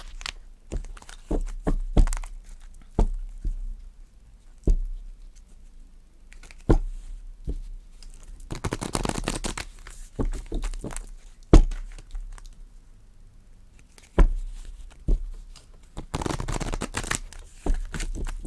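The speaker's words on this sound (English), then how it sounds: "So, how about we do a shuffle and get a message?" Glossy, regular-size Angel Guide oracle cards are shuffled by hand in quiet repeated bursts, with sharp taps and riffles close by and brief pauses between rounds.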